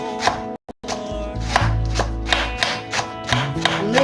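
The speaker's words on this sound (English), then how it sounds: "So you have to cut your salad, you slice this properly." A knife slices salad vegetables on a board in a home kitchen, sounding as a close, regular series of crisp chopping strikes over a low background hum, with one brief dropout near the start.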